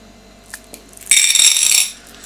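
Construction cartridges are handled with a few faint clicks and taps, then a brief loud metallic rattle and jingle as they are shifted about, ending in a single sharp knock.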